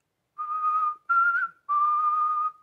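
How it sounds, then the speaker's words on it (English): A person whistles a steady pitch in three sustained notes with short gaps between, clear and close, with no talking. "One thing you can try is whistling."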